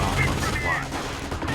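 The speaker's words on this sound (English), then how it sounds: "The second MG42 built is now exerting itself pretty well." MG42 machine gun fire in the Company of Heroes video game, a dense rattling burst of rapid shots blending with other battle noise under a commentator's voice.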